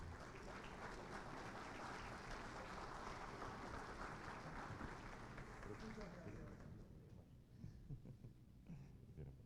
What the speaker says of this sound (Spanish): Le recibimos con un muy fuerte aplauso.